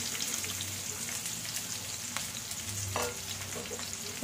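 Chopped big onions frying in a little oil, giving a continuous crackling sizzle at low level, with occasional faint stirring taps.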